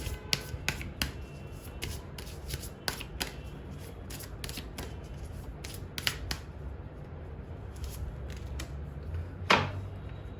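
Tarot cards drawn one after another from a deck, a series of sharp papery snaps and flicks at close range, with a louder swipe near the end, no talking.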